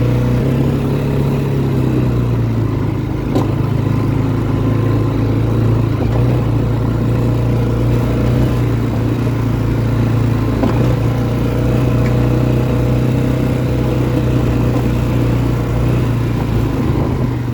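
An ATV engine runs steadily throughout a test ride while the rider pulls small drifts, producing a loud, continuous mid-pitched drone with slight shifts in revs and no talking.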